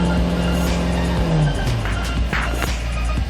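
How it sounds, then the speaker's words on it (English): Engine of a black 2007 Daewoo Winstorm SUV revving, a close, loud drone with rising and falling pitch sweeps across a few seconds. "Alright, one more time for the engine."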